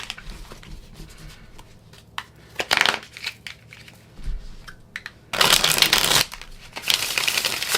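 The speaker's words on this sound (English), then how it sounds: "I am not shuffling these cards in the best way" A deck of tarot cards is shuffled by hand in short, irregular bursts of papery riffling and crackling, louder in the second half, with no talking over it.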